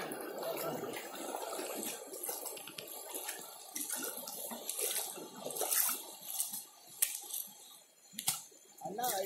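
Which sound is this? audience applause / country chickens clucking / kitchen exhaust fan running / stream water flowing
stream water flowing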